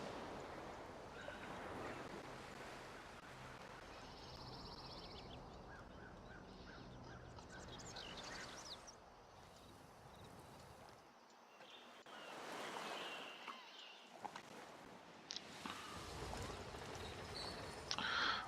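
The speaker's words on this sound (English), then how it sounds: "You can hear the waves crashing against the ocean." Ocean surf in the video game Civilization VI, a steady wash of waves breaking and rolling in, swelling and fading in broad surges, soft and continuous with faint bird-like calls mixed in.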